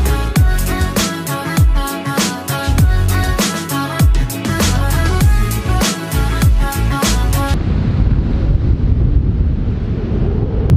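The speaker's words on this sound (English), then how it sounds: "I think it's pretty windy" Strong wind blowing across an exposed clifftop ledge near Sydney, a broad steady roar that takes over for the last few seconds after a stretch of rhythmic music with a thumping beat.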